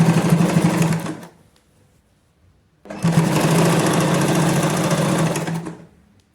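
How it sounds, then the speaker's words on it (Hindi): Close sewing machine stitching the side seams of palazzo pants, a loud steady whir in two bursts separated by a short pause, with no talk. "अब हम साइड की सिलाई लगाएंगे।"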